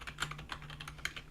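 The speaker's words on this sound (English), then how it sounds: "Yes, my keyboard is extremely loud." Loud clacking of a computer keyboard being typed on, a quick irregular run of sharp, close key clicks with no talk over it.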